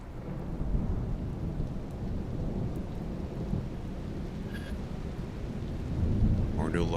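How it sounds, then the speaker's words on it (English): Steady rain beginning to fall during a thunderstorm, a dense continuous hiss with low rumbling thunder underneath that grows slightly louder toward the end, with no talk. "As it starts to rain."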